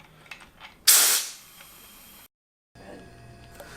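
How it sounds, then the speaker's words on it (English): Pressure relief valve on a beer keg venting gas: one loud, sharp hiss that bursts out and tapers off over about half a second, then a brief silence before quiet room noise returns. "pull on the pressure relief valve a few times, let it fill back up"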